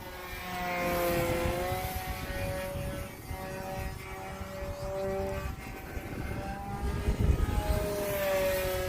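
Small RC plane, a Swift, flying at about half throttle, its motor giving a steady whining drone with shifting pitch that rises and falls as it passes, fairly distant and continuous throughout.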